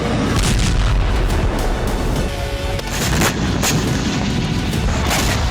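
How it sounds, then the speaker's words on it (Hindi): Explosions from Ukrainian missiles striking a Russian factory, a dense roar of repeated booms and crackling blasts filling the whole stretch, loud and continuous with no voices. "जिस वक्त यूक्रेन की मिसाइलें फैक्ट्री से टकराईं"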